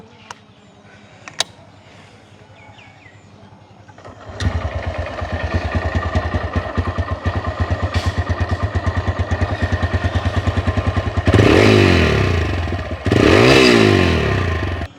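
A used TVS Rider 125cc motorcycle in good condition starts up after a few quiet clicks and settles into a steady, close idle, followed by two loud revving bursts near the end.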